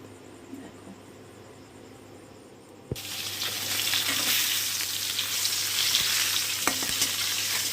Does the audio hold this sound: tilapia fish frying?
yes